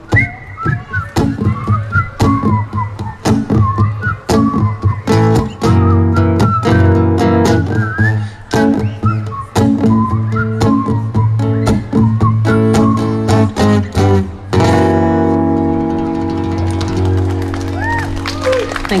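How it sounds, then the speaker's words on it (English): Audience whistling along to a live band at an outdoor music festival, melodic whistles over steady drums, bass and guitar, with scattered claps and crowd noise throughout. "Everybody whistle."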